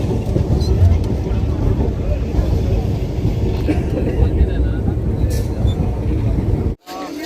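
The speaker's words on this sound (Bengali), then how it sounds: "ডাইরেক্ট লক্ষ্মীকান্তপুর ট্রেনে উঠলাম" Inside a crowded local train bound for Lakshmikantapur, a heavy low rumble of wheels and carriage noise continues throughout with passenger chatter mixed in, briefly cutting out near the end.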